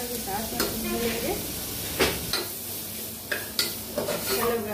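Tomatoes fry in a pan for a spicy chickpea curry, giving a steady sizzle broken by repeated scraping and clinking as a spoon stirs them, close and fairly quiet.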